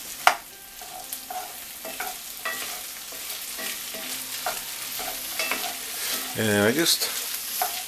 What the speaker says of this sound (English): Then we're going to mix it around, and then I'm going to add the onion to it.